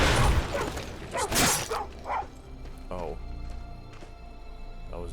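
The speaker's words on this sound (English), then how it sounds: "That was a dog." A few sharp dog barks near the start in the modded video game Skyrim, with a brief crash, followed by a short spoken exclamation and quieter game sounds.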